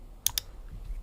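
Two quick, crisp keystrokes on a computer keyboard, close and isolated, followed by quiet room tone.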